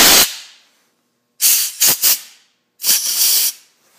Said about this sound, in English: Grab the air nozzle and